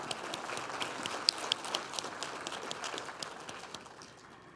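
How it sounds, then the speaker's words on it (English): Faint applause from the crowd at a Martin Luther King Jr. celebration at Gateway Technical College, greeting an award winner. The sound is a soft, distant patter of many hands with a few sharper claps, tapering off. "Yes, we can clap."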